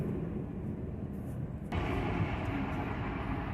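A Norfolk Southern train rumbles past at moderate distance, a steady low roar that swells slightly partway through, with no talk.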